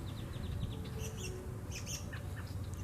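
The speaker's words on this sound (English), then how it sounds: "all the bird sounds that I'm hearing out here" Birds chirp and tweet in quick, scattered calls outdoors in Port Aransas, with an occasional squawk over a steady low background rumble.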